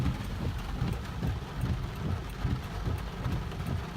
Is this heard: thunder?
yes